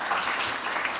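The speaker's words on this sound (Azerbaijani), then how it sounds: "Sizin alqışlarınızla Sumaya xanımı dəvət edək." An audience at a book presentation claps in a brief burst of dense, steady applause.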